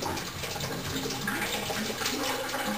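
Water drains steadily from a hot water heater drain valve during a tank flush, a continuous rushing splash that holds at a moderate, even level throughout with no talking.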